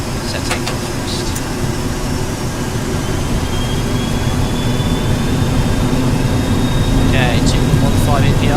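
Boeing 737-200 jet engines spooled to takeoff thrust in X-Plane 12, a steady loud roar with a faint rising whine, as a pilot talks briefly over it.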